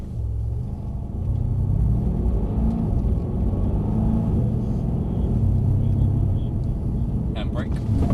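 Mercedes C63s AMG on a track at Mercedes-Benz World, a steady loud engine rumble with harmonic tones shifting as the car accelerates, heard from inside the cabin, with speech partly over it.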